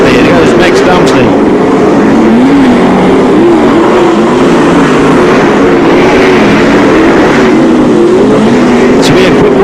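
Sprintcars roar around the dirt oval at Archerfield Speedway during the 1996 National Sprintcar Championship, a loud, continuous howl of engines rising and falling as cars pass through the turns, with a race commentator talking over the din.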